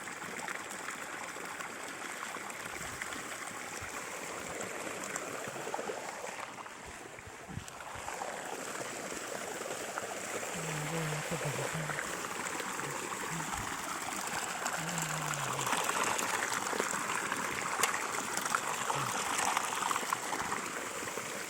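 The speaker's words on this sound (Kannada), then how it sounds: "ನೀರು ಹೋಗ್ತಾ ಇದೆ, ಚೆನ್ನಾಗಿ ಹರಿತಾ ಇದೆ." Water flows steadily in a stream, a constant rushing and trickling wash heard from close by, with a faint low hum briefly audible in the background.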